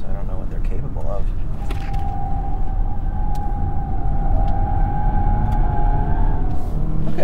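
A Lexus UX F-Sport driven hard into oversteer: steady loud road and engine rumble with a long sustained tonal whine, likely tire squeal, as people talk over it inside the cabin.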